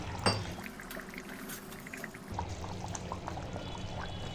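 Water is poured into a pot of goat tripe curry, a close gurgling flow after a sharp clink at the start, running steadily with soft bubbling and no talking.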